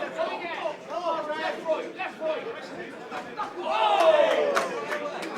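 Home crowd at an amateur boxing bout between Western Counties and the Army, a rolling swell of oohs, cheers and chatter from spectators in the hall that builds louder toward the end, with a commentator talking over it.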